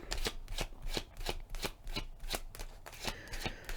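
Tarot cards shuffled in a steady series of crisp riffling bursts, about a dozen quick papery slaps in under four seconds, close and fairly quiet with no voices.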